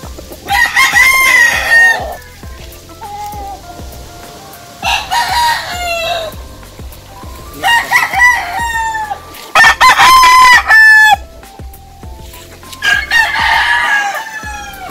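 An April-born Johnny Jumper Kelso stag in a backyard crows several times, loud and close, each crow separated by short pauses, with a few softer clucks between the calls.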